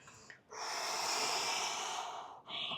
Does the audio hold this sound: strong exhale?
yes